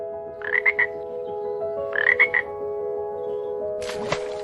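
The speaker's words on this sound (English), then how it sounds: "Is there a frog?" A frog croaks nearby in two distinct rattling bursts over a steady background hum, followed by a short louder click-like noise.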